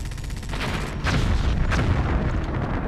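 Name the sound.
explosions destroying camp buildings in video game Hostile Waters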